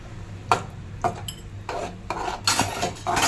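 A spoon clinks and scrapes against a pan as palkova is added and stirred, giving several sharp metallic knocks and rasping scrapes in an irregular rhythm, close and fairly loud with no talking.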